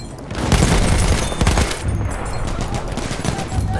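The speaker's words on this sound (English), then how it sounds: "Machine gun over there!" Machine gun fire in a video game battle, dense rapid bursts and booms mixed into a continuous loud fusillade with no pauses.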